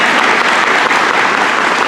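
A crowd at a service club luncheon gives a loud, dense round of applause for a group of young ladies, continuous and close, with no talking over it.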